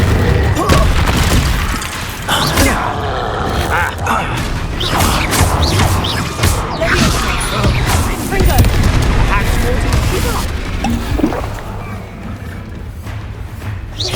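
Confringo fire-spell blasts from the Hogwarts Legacy video game boom and crash over and over in dense, loud bursts as a voice shouts over the combat.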